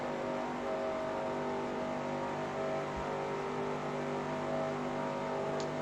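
A simulated race car engine at Daytona holds a steady, loud drone near 7,000 RPM while drafting in the NR2003 racing game, with constant harmonic whine throughout and no talk.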